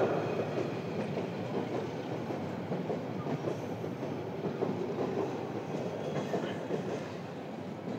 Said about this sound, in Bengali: ট্রেনটা ডিস্টার্ব করলো।